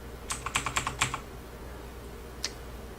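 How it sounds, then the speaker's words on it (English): A VAVA Chroma mechanical keyboard with blue Kailh switches gives close, crisp clicky keystrokes: a quick burst of about eight presses, then a pause and one lone click. "this is a VAVA Chroma Mechanical Keyboard with blue Kailh switches"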